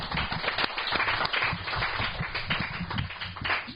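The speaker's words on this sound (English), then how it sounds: "let's give Rafi another round of applause" Audience applause in a lecture hall, dense steady clapping from many hands sustained throughout at moderate loudness, with no voices over it.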